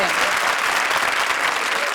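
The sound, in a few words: audience applause for Urvashi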